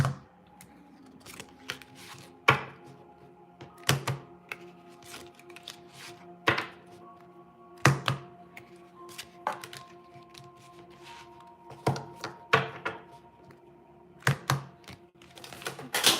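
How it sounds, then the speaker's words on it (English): Tarot cards spilling onto the floor during a live reading, heard as a series of sharp slaps and clatters at irregular intervals, some louder than others, over a quiet room background. "Half of the deck is on the floor"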